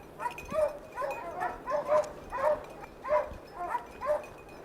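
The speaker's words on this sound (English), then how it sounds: "Sounds like the hounds have struck a hot trail." Hunting hounds baying on a mountain lion trail in mountain country, a distant, rhythmic series of drawn-out howling bays repeating roughly every half second to second over quiet open air.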